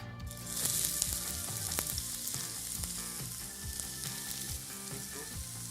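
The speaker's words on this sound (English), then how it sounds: "I'm going to cook this all down for about 5 minutes until the onions and the garlic are completely translucent" Chopped onion and garlic frying in extra virgin olive oil in a preheated pan, a continuous bright sizzle with faint crackles, close and steady throughout.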